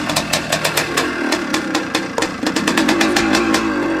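A classic 1977 Suzuki RM250 two-stroke motocross bike idles after a cold start, close and loud, with a steady burbling run broken by sharp regular pops and crackles throughout.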